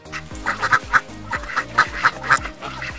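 A farm duck quacks in a quick, close series of around ten nasal honking calls with a bouncy rhythm, loud and without any talk.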